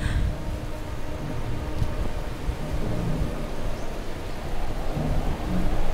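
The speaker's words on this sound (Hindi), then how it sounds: "इस तूफान को आने में तो एक हफ्ता बचा है, ये इतना जल्दी कैसे आ गया?" A thunderstorm with steady heavy rain and low rumbling thunder rolls continuously and loudly throughout, with no voices.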